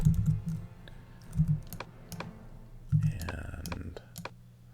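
Keyboard shortcut keys are tapped while drawing shapes in Anime Studio (Moho Pro), with a handful of sharp close clicks and short typing bursts, interspersed with faint low speech.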